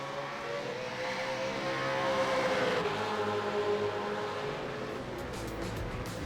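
V8 Supercars race cars crossing the finish at Barber Motorsports Park in Alabama, a distant engine drone with one car's note sweeping down in pitch as it passes, over a steady hum of track noise.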